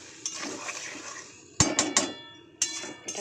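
Spice paste with chili powder, turmeric and salt stir-fried in a pan, a metal spatula clanking sharply against the pan several times over a low, steady frying hiss.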